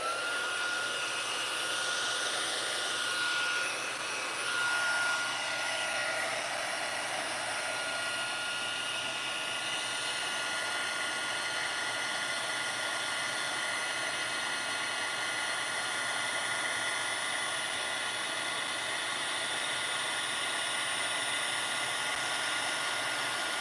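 A heat tool runs steadily and loudly throughout, drying watercolor shimmer inks with a constant whirring airflow hum and a slight pitch shift near the start, alone without speech.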